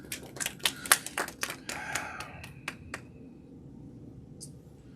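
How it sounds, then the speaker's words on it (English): A short burst of scattered hand claps from a small audience at a poetry reading, loud at first, then thinning out into a few last claps before fading to quiet. "Clap it up one more time for these two amazing poets"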